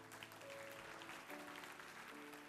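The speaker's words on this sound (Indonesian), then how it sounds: "kasih tepuk tangan untuk Tuhan Yesus" A church congregation applauds during a sermon, with steady, dense clapping held at an even level throughout while sustained keyboard tones hum softly underneath.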